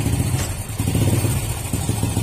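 A carbureted motorcycle engine runs close and loud with an uneven, stumbling idle and short blips of throttle, its carburetor air screw set wrong.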